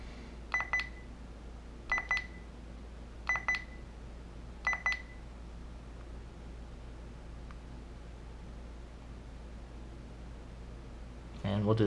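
A Redline radar detector beeps after being power cycled: four short, evenly spaced electronic beep bursts in a quiet setting, then a pause before a brief louder rustle at the end.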